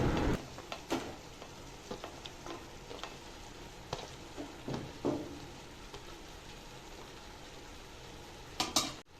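Bottle gourd pieces being stirred with softened tomatoes in a pan: a steady low sizzle with scattered scraping and clinking spoon strokes against the pan, a louder flurry of scrapes near the end, no talking.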